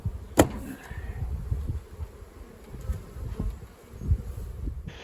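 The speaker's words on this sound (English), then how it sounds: "there's a lot of bees in these boxes still" Honey bees buzzing around stacked supers and hive boxes while the supers are pulled, a soft, steady drone of many insects close by with occasional knocks and clunks of wooden boxes.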